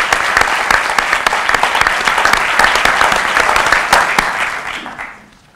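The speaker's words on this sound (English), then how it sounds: "So a round of applause for both of them, please." Sustained applause fills a police department awards ceremony, a dense, even wash of many hands clapping that carries for several seconds before fading out.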